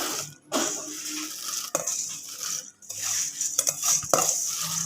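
Fried methi boondi is tipped into sugar syrup in a metal pot, with close scraping, stirring and clinking of a spoon against the pan and soft wet sloshing.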